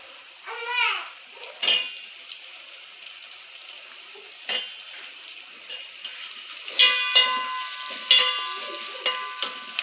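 Onions sauté in oil in a pan for Kerala kadala curry, giving a soft steady sizzle broken by intermittent stirring scrapes and metallic clinks of the spoon against the pan, with no talking.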